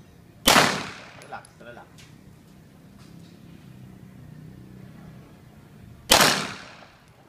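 Two loud gunshots at a shooting range, a few seconds apart, each with a sharp crack and a short echoing tail, with someone speaking briefly between them.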